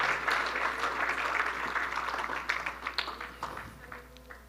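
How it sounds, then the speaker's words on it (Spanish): A church congregation claps for Jesus Christ in sustained applause that gradually loosens into scattered, uneven claps before tapering off. "¿Alguien le puede dar un aplauso al Señor Jesucristo?"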